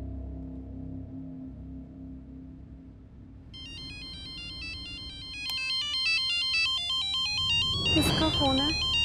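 A mobile phone ringtone plays a repeating, stepped electronic melody during a conversation at a bank. It starts partway through over low voices and keeps ringing steadily and clearly.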